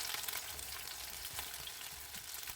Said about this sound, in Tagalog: Ulitin ang proseso sa pagluluto o pagpriprito sa remaining marinated chicken.